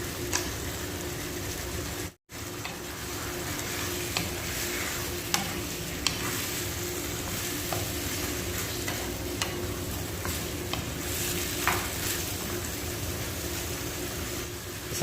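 Chicken frying in a pan for a Hawaiian chicken recipe, with potatoes added, gives a steady close sizzle broken by repeated scraping and clinking from stirring, with no talking.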